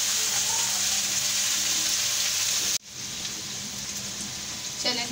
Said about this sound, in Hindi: अब प्याज को भी फ्राई कर लेंगे।